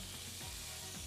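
Diced fish sizzles steadily in a hot pan at high heat, a continuous hissing fry with faint stirring.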